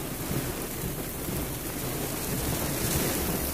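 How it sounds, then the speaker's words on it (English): Heavy rain pouring down in a steady, dense roar of broadband hiss, loud and continuous throughout with a low rumble underneath and no voices. "it started pouring rain"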